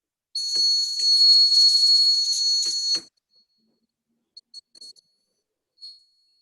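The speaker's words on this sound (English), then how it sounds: "then the buzzer will alert us" A smoke-sensor alarm buzzer built as a school science exhibition project gives one shrill, steady, high-pitched tone for about three seconds, followed by a few faint short chirps.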